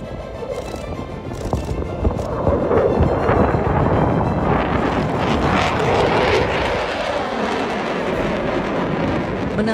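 A fighter jet roars loudly and steadily, its broadband engine noise swelling after the first two seconds and holding near and strong throughout, with no talk.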